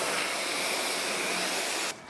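A steady, loud hiss of water spray rinses tar off a van, running continuously at close range before cutting off abruptly near the end.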